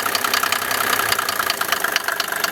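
A 1987 Mercedes 300SDL diesel engine idling up close, a loud, steady, rapid clattering knock with an even rhythm and no voices.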